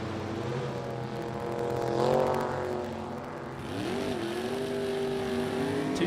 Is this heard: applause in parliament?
no